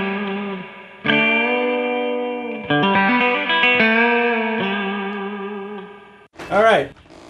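An electric guitar lick played with a pick through effects such as chorus and distortion, a run of sustained, shifting notes ending in a G double stop bend whose pitch swoops up and down, loud and close with no talk.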